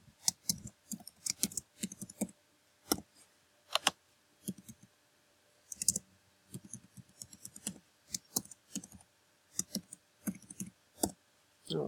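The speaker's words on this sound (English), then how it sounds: "go ahead and start typing in" Quiet, irregular bursts of keyboard typing, clicking keystrokes in quick clusters separated by short pauses, with no talking.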